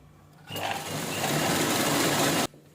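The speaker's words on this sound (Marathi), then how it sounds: "आता दाब शिलाई देऊन द्या." A sewing machine stitching a blouse seam runs in one close, even burst of rapid mechanical whirring for about two seconds, then stops abruptly.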